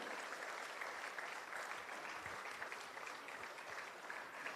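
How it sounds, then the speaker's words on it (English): Audience at a global manufacturing conference applauding the founder president, a steady, dense wash of clapping heard from some distance throughout, fairly quiet, with no one speaking over it. "give the biggest round of applause to our founder president, Codicia."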